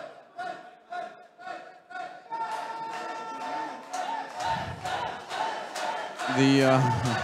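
The crowd at an Adler FC 2 mixed martial arts fight chants in a rhythmic, pulsing pattern, the voices swelling into louder sustained shouting at the end.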